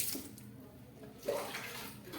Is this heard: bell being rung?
no